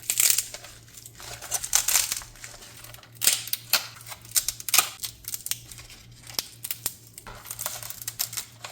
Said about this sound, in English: So now let's try to peel the ridge gourd.